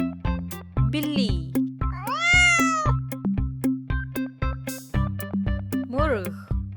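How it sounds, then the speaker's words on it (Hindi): A domestic cat meows several times, drawn-out rising and falling calls heard over a steady rhythmic backing beat, close and distinct with no talk. "बिल्ली।"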